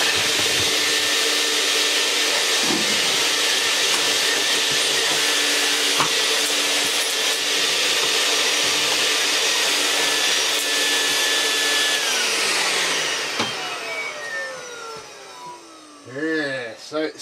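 A Vax 121 vacuum cleaner with a straight suction head dry-vacuums with a loud, steady roar that holds for most of the stretch. Near the end the motor winds down, falling in pitch and fading, with a few bumps and handling noises.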